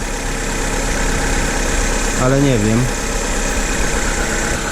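A Seat Cordoba 6L2 1.4 16v, its engine just washed, idles with a steady low drone throughout, and a voice speaks briefly over it partway through.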